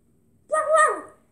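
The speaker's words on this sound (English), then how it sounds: "Now you're a dog." A single short dog bark or yelp rises and falls once, loud and close, after a brief quiet lead-in.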